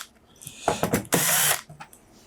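Screws are backed out of the side panel of a TEAC A-3400 four-track quarter-inch reel-to-reel tape deck: close, short ratcheting clicks and whirring bursts, with one longer steady buzz in the middle.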